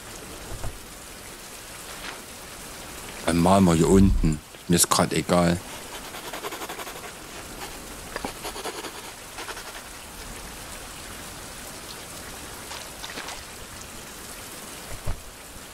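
Rain falling in a survival crafting video game, a steady soft wash throughout with German talk over it and a loud burst of game noise near the middle.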